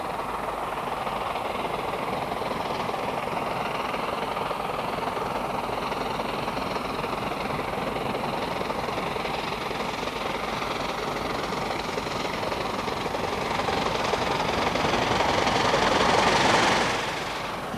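British Railways steam locomotive 71000 Duke of Gloucester works southbound on the Settle and Carlisle line, a steady distant rumble and hiss that swells slightly louder near the end.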